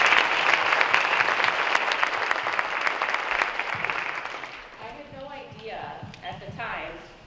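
Applause from a school audience after two counselors are introduced at a spring junior night, dense steady clapping for several seconds that thins and tapers off while scattered claps and faint voices linger at the end.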